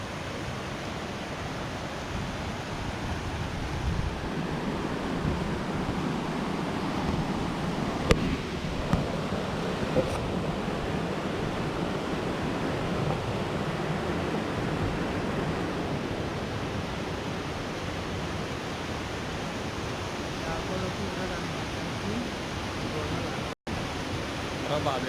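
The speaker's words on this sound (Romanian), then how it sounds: "Hai să vedem cascada acum." Putna waterfall near Tulnici rushing as a steady, broad roar of falling water that fills the whole stretch, with faint voices now and then beneath it.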